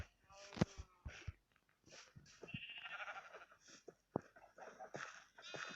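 Sheep bleat in the Minecraft survival game, several short, quiet bleats scattered among other soft in-game sounds and faint background noise.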